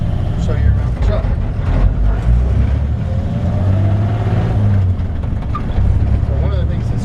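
A 1955 Chevrolet 3100 pickup truck engine with old-school Fenton dual exhaust rumbles steadily on a drive, a continuous low, throaty drone with mild swells in throttle and no talking.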